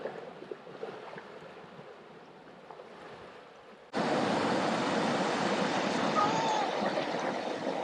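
A river rushes in a Washington outdoor setting, a broad steady roar of flowing water that jumps suddenly louder and closer halfway through and then stays full and constant.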